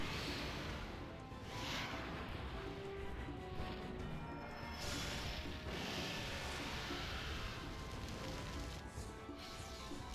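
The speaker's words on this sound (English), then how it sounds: "Ooh, Michael Bay approves of this explosion." A big explosion from a special attack in the Monster Hunter Stories video game, a continuous roaring, crashing blast sustained for about ten seconds with swells and crackles throughout.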